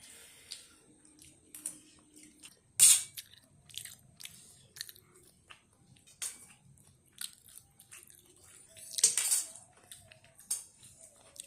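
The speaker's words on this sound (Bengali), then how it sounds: "তো চলো এবার আমি খেয়ে নিই।" Someone eats home-made fried rice with cutlery: scattered clinks of metal on a plate and soft crunchy chewing, fairly close and intermittent, with quiet gaps between bites and no talk.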